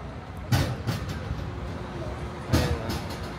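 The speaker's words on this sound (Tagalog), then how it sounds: "Ito guys yung tren." A train passing in Taiwan, heard as a steady rumbling roar with a couple of louder clattering bursts from the cars, fairly close, with no talking over it.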